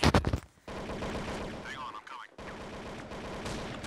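A fully upgraded rifle fires in Counter-Strike, starting with a loud burst of rapid shots. Quieter gunfire and game sounds follow, with a short gap partway through.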